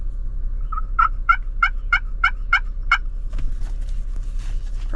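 A turkey call imitates a gobble in a quick, loud, rattling burst of about seven close notes, followed by quiet low rumble and a brief spoken word.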